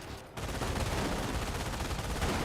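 An MG42 machine gun firing in Company of Heroes, a dense rapid burst of shots that starts after a brief gap and roars on steadily to the end, loud and close.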